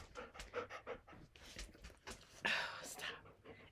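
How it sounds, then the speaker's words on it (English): A husky mix dog pants in quick rhythmic bursts close by, with a louder breathy stretch near the end. "She's a husky mix, and so it's gonna be like cats, only dogs."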